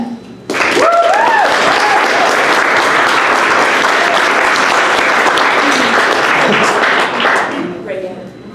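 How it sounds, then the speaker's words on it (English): Audience at a comedy dating show claps to vote for a bachelor, erupting abruptly into loud, dense applause with cheers and whoops over it, then tapering near the end, with a voice heard briefly at the start. "So if you want your comedy bachelor of the night to be Nikki Delicious, go ahead and clap"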